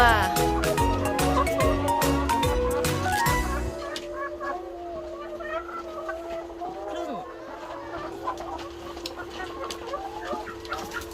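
About 120 laying hens cluck and chatter together nearby in a coop, a busy, continuous flock sound; a loud rhythmic background noise runs under it for the first few seconds.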